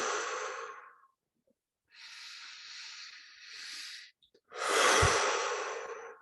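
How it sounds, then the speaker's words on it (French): Deep, slow breaths during a guided meditation breathing exercise, a long exhale, a pause, then a drawn-out inhale and another forceful exhale, close and fairly loud with no talking. "Excellente respiration pour détoxifier naturellement par plus d'oxygène qui rentre, plus de dioxyde qui ressort."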